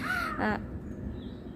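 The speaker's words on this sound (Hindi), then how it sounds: "चिड़िया बोल रही है" A crow caws once or twice outdoors on a quiet morning in Ayodhya, a short harsh call standing alone before fading into low background hiss.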